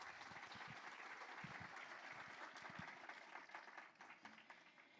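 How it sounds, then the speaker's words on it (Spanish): Audience applause at a panel discussion on measurement tools, a sustained crowd of clapping with a few distinct nearer claps, fairly faint overall and thinning slightly toward the end. "Un aplauso,"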